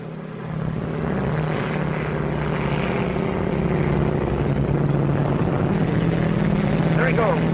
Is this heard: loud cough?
no